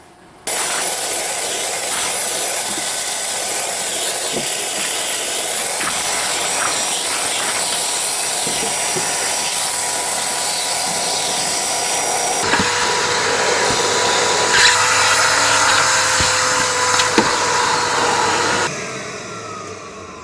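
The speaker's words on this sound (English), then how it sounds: "So I'm using the hoover now to pull out the bits of comb that I can't break up" A shop vac hoover sucks wasp nest comb out of a cavity, a loud continuous motor whine and airflow hiss with occasional clatters as debris is pulled through, then stopping near the end.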